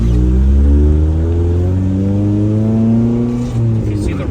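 A Honda CRX HF engine drones close and loud, its revs climbing steadily in one sustained pull before easing slightly, with people talking over it.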